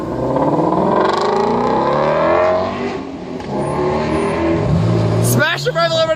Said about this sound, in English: Smash the rev limiter!